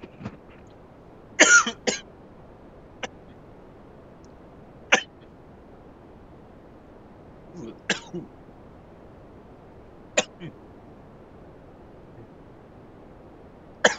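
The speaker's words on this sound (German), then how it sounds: "Ungünstiger Zeitpunkt für einen Hustenanfall." A person coughs in a fit of separate bursts, sharp and fairly close, spread over a quiet background with no talk, the harshest cluster coming early and single coughs following at intervals.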